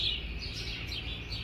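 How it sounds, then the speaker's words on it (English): Birds chirping outdoors: a few faint, high, quick chirps over a steady background hum in a brief moment. "But there are lots of birds in this area."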